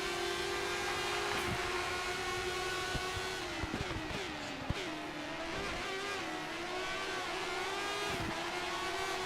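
An F1 2013 race car drifting through corners in the video game, its engine holding a steady high whine with brief dips and shifts as it works through the bends, loud and continuous with no talk.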